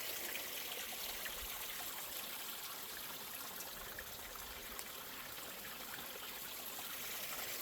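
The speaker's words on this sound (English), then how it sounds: "There's a little miniature waterfall." A small miniature waterfall stream on a Mount Rainier trail, trickling and splashing steadily as a soft, continuous wash of water at moderate distance.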